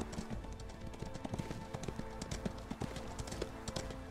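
Horse hooves gallop in the video game Ostwind, a dense, continuous run of clip-clop beats layered over game music and effects throughout.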